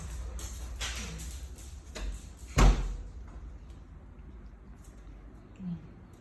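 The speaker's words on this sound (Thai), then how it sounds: "เดี๋ยวแม่จะปิดประตูเข้าบ้านนะ" A house door is shut with one solid thud partway through, set among faint household noise and a low background hum, with no talk over it.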